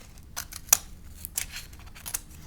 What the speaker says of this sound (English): these scissors, they don't glide along the paper as well as just your straight edge scissors